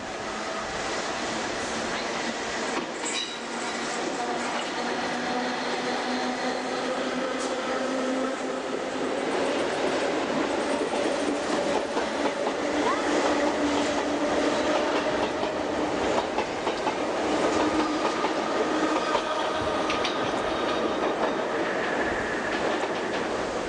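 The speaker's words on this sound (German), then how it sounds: "Hier der Sonderzug bei der Durchfahrt im Lehrter Stadtbahnhof." An East Berlin S-Bahn special train passes through Lehrter Stadtbahnhof, its wheels giving a continuous loud rumble with clickety-clack and faint squeals through the whole stretch, heard close by with no voices.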